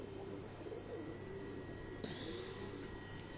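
Soft, low coos of flying pigeons on a rooftop in Rawat, Islamabad, repeat a few times at a distance, faint against quiet outdoor background noise.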